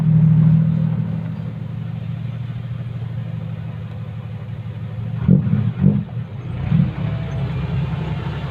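A car engine idles and rumbles steadily up close while the vehicle is turned around, with a few low thumps and surges of revving toward the end.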